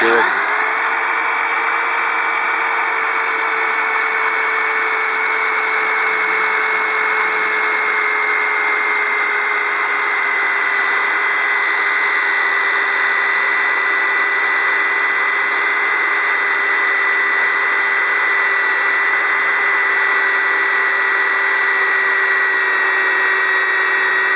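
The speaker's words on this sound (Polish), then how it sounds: "Widać, że wiertarka nie spowalnia" A steady high-pitched whine from a budget 500 W AMS electric drill runs continuously at constant speed, loud and close, with no pauses or talking.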